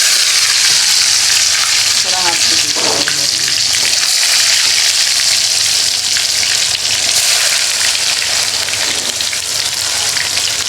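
Thread-tied stuffed bitter gourds (karela) frying in hot oil in a kadhai, giving a loud, steady, close sizzle that runs unbroken throughout, with a few brief bubbling spurts early on.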